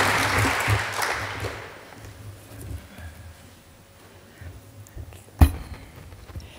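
An audience at a keynote address applauds to welcome speaker Molly Raphael. The clapping is moderate and diffuse at the start, fades away over about three seconds, and leaves a quiet room with one sharp knock near the end.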